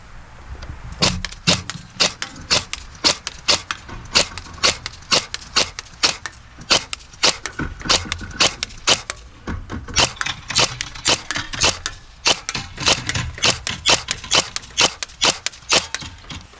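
Sharp, rapid shots from a G&G Cobalt Kinetics BAMF airsoft gun firing BBs at targets, a long run of distinct close snaps in quick bursts with short pauses between strings, each followed by faint impacts.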